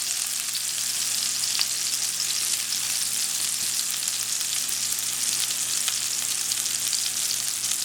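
Gola kebabs frying in hot oil in a pan give a steady, dense sizzle that runs without a break at an even close level, and nobody talks over it.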